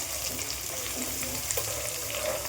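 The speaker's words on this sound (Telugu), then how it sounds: "మనం కట్ చేసుకున్న ఆనియన్స్ వేసేసుకుందాము" Chopped onions frying in hot oil over high flame, a loud continuous sizzle with occasional stirring scrapes.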